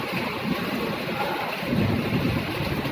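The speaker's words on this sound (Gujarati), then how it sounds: "ગાજવીજ સાથે ધોધમાર વરસાદ વરસવાનું ચાલુ છે" Steady heavy rain in Surat, India, hisses loudly and continuously, with a low rumble of thunder swelling near the end.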